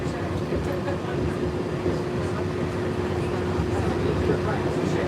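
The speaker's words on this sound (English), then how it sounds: "That monorail goes to Epcot." A Disney monorail train passes at Bay Lake as a steady rumbling rush, with people talking over it.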